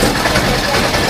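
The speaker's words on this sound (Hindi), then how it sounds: "अब देखिए आपको कितनी इसकी आवाज़ जो है ऑटो रिक्शा की सुनाई दे रही है" A steady, loud engine rumble runs throughout, like a small three-wheeler idling or puttering close by, with continuous street noise around it.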